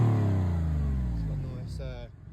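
A Porsche fitted with a switchable Dansk exhaust revs and then drops away, the engine note falling in pitch and fading over a couple of seconds before a brief higher-pitched rasp at the end.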